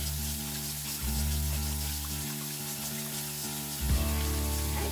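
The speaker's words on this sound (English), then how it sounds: "And then we're just gonna rinse them." Water running over sprouting lentils as they are rinsed, a steady close hiss and splash like a tap stream with slight shifts in flow and no talk.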